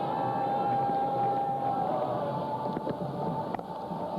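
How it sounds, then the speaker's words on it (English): Distant call to prayer drifts across a cricket ground in Sharjah during a Pakistan versus Sri Lanka final, a sustained wavering voice faint beneath steady crowd murmur, with a few sharp knocks near the end. "I'll just be able to hear the prayers in the background."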